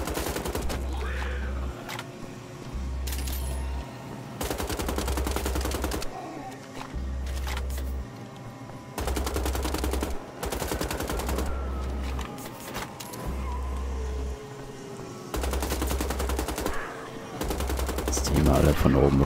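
Bursts of automatic gunfire in the video game Wolfenstein: The Old Blood, repeated rattling volleys recurring every couple of seconds, fairly loud, with the game's background sounds between them.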